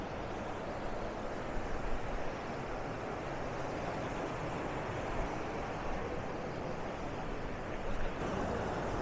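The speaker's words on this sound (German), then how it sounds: "Die Wellen sind jetzt mal, glaube ich, nicht ganz so hoch." Ocean waves washing in at the Faro lighthouse in Maspalomas, Gran Canaria, a steady broad roar of surf with wind, continuous and fairly even with no talking.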